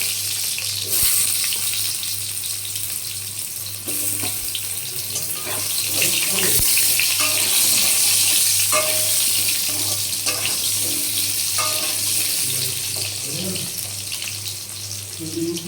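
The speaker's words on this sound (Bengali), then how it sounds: "তেলটা গরম হয়ে গেছে, আলুগুলো একটু ভেজে নেব।" Diced, washed potatoes fry in hot oil with a steady, close sizzle and occasional crackles and pops over the full stretch.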